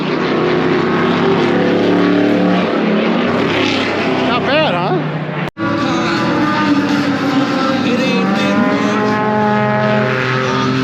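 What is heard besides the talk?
race car driving past on track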